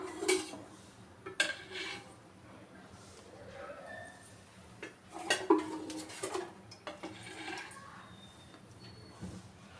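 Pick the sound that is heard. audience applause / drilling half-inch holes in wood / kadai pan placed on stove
kadai pan placed on stove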